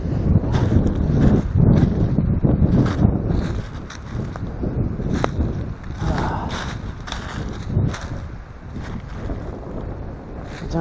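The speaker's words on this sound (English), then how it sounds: "It's very windy." Strong outdoor wind gusts and buffets hard against the microphone in a continuous, rumbling roar that swells and eases throughout.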